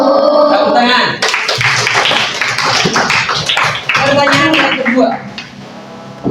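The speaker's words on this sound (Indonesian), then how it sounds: "Tepuk tangan." A class of students claps hands together in a classroom, a dense burst of clapping with voices mixed in, loud and close, fading near the end.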